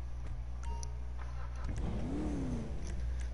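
Pickup truck engine in GTA V Online revving under a steady low drone, a moderate rise and fall in pitch partway through, fairly faint and close.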